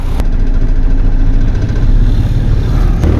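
An Isuzu 6WF1 diesel truck engine with low power and misfiring is revved, giving a loud, close, continuous low rumble that barely rises, with sluggish throttle response.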